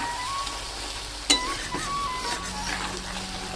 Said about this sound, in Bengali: এবার আলুটাকেও দিয়ে ভালো করে আমি মশলার সঙ্গে কষিয়ে নেবো একবারে